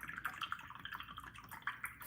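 A paintbrush swishes and dabs in a jar of rinse water, giving faint, close little splashes and drips in an irregular rhythm with no talking.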